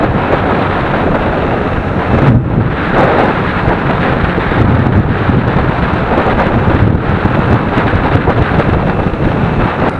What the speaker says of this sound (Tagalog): Pagdating dito may mga kulog.